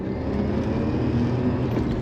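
A 1992 Lotus Carlton saloon pulling hard in fifth gear, its engine giving a steady, loud, low droning roar heard from inside the car, with no speech over it.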